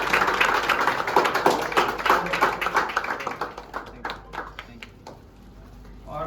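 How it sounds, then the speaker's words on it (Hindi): In a gym during a CPR training session, a small group claps together in a brisk burst that thins to scattered claps and fades, with faint talk underneath. "तो उनके लिए सबसे पहले जोरदार तालियां बजाएं।"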